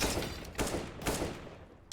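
Tactical shooter match gunfire: a quick fusillade of several sharp shots in rapid bursts, moderately faint, with no voices.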